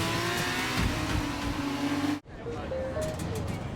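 Race car engine in the video game F1 2019, a loud steady whine rising in pitch as it picks up speed, cut off abruptly, then a quieter engine tone resuming under talk.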